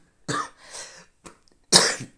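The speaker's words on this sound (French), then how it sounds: "Fallait que je tousse." A person coughs several times in quick, close bursts, the last one loudest, separated by short silences.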